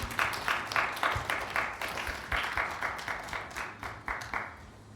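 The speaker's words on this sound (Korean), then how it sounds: "우리 잠시 다 같이 하나님께 영광의 박수 올려드렸으면 좋겠습니다" A church youth congregation at a Sunday service gives rhythmic, unison clapping of praise, distinct regular claps roughly three per second, moderately quiet and alone without talk.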